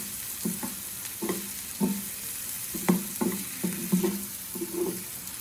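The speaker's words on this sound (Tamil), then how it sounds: "ஓகே, வெங்காயம் ஃப்ரை ஆயிடுச்சுங்க." Onions frying in a pan for vanjaram dried fish thokku, a soft background sizzle with a regular series of distinct spatula knocks and scrapes against the pan.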